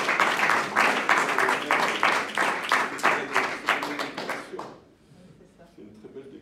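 An audience at a Geneva event applauds with dense, steady clapping for about four seconds before it fades out.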